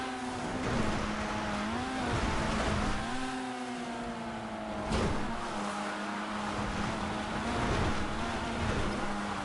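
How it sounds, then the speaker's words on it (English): Race car in GTA V Online stunt racing, a nasal engine hum that rises and falls steadily through gear shifts as it laps the track, moderately loud and alone. "Just getting the car around the track nice and clean."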